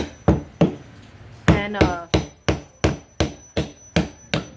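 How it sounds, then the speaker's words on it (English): A chisel is hammered into the end of a wooden soffit board, about a dozen loud, evenly spaced whacks up close, with a brief scraping rasp early on. "we're just going to chisel off that end, and that way the wood will go right back into place"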